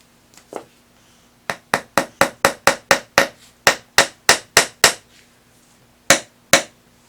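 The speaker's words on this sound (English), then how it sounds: "So you just want to hammer them in a little bit." A hammer drives nails into wood in quick, sharp blows, a couple of early taps, then a rapid run of about a dozen hits, and two final knocks.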